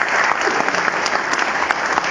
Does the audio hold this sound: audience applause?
yes